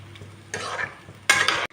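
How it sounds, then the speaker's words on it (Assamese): Fish curry is stirred in a hot pan after a little water goes in, two short bursts of scraping sizzle separated by a quiet pause. "ভালদৰে লৰাই দিছোঁ"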